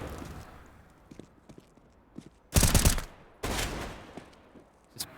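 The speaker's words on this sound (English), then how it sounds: "He's done a little bit of gunfire, but not a lot of damage." On the Nuke map of a Counter-Strike pro match, a burst of rapid gunfire crackles loudly, then a second shorter volley follows, with faint footsteps and quieter game sounds before and between the bursts.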